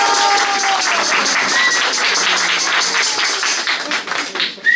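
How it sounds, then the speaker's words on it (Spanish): An audience at a live show breaks into sustained, dense applause, a close wash of many hands clapping steadily that thins out near the end. "Un aplauso para Oriana."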